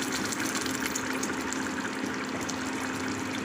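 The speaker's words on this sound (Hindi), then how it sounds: "अब इसमें शामिल करेंगे पानी हस्बे ज़रूरत" Water pours steadily into keema matar, minced meat and peas cooking in a pan, a continuous close gushing splash with a faint hum beneath and no voices.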